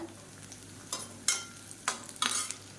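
Onions for cauliflower rice sizzle softly in oil and are stirred at intervals, each stir bringing a sharp, close scraping hiss burst, about four bursts over a quiet fry.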